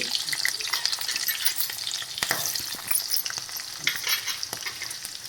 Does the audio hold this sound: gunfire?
no